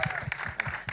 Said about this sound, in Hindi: इनकी पहली पिक्चर है, तो प्लीज जोरदार तालियों से